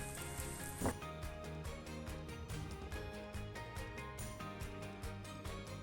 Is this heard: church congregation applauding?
no